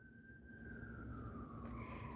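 A siren wails steadily with a slowly falling tone, fairly distant and faint, gradually growing a little louder over a low background rumble.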